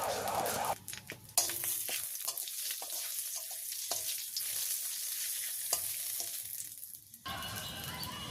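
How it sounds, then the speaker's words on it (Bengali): Bay leaves and radhuni spice frying in oil in a wok, a steady loud sizzle with stirring scrapes and a few sharp clatters, alone without talk, ending in a brighter burst of hissing. "তো কড়াইতে আর একটু তেল দিয়ে দিছি, দুটো তেজপাতা দিয়ে দিলাম, দিয়ে দেবো একটু রাঁধুনি"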